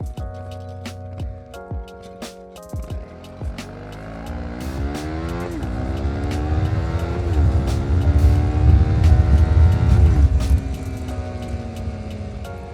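A Honda CB300R motorcycle accelerates hard from a standstill toward 100, its engine note climbing loudly through several gears with brief dips at each shift, close and growing steadily louder.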